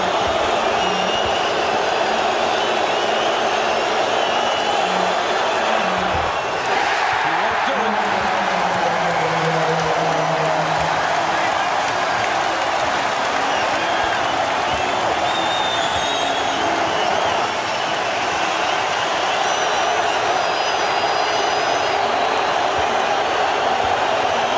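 A packed basketball arena crowd roars nonstop during a 2000 Lakers vs Blazers Game 7, loud dense din with cheering swells, a commentator talking over it throughout.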